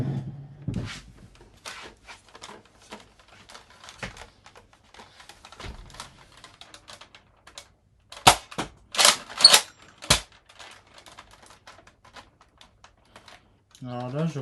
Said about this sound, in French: on va faire des tests de tir